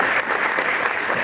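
Audience applause at a lecture on elderly care organised by a media group in Malkapur: a dense, steady burst of many hands clapping at close range, continuous and fairly loud throughout.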